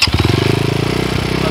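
A 2022 SSR SR300 dirt bike engine runs loud and close, its single-cylinder beat thumping rapidly as it idles and revs, with a slight rise and fall in pitch.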